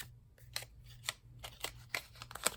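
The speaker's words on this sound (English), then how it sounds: "let's just kind of trim this off a little bit" Small scissors trimming a paper Christmas library pocket make quiet, crisp snips in an irregular series of about seven or eight cuts, close up over a faint low hum.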